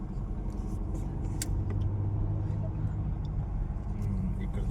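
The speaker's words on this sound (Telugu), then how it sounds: "నల్ల కారు వెళ్ళిపోతుంది చీకట్లో." A black car drives past at night on a street lined with houses, giving a steady, moderately close engine and tyre rumble with faint background voices.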